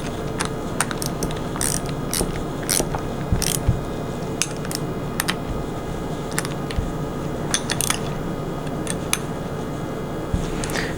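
Steady mechanical ratcheting while bolts are tightened down on a 70cc dispense pump during a rebuild, with repeated sharp metallic clicks and clacks scattered over a continuous low hum.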